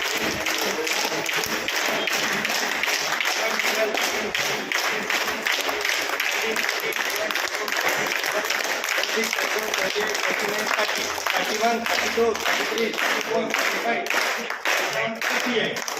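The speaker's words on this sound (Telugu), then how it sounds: "వారికి కూడా 38 చప్పట్లతో అభినందనలు తెలియజేస్తుంది" A crowd at a temple gathering claps in a long, steady round of dense applause that stays loud and even throughout, with voices faintly mixed in.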